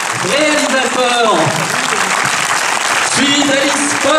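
Audience applause greets arriving guests at a film premiere of Le Dindon, steady crowd clapping under a presenter's voice introducing the guests over a sound system.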